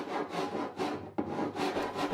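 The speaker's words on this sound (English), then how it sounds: "I level the underside with a rasp and then smooth surfaces with sandpaper working by hand" Hand rasping and sanding of a wooden boat hatch, a steady back-and-forth scraping with repeated strokes and one sharper knock midway, close and alone.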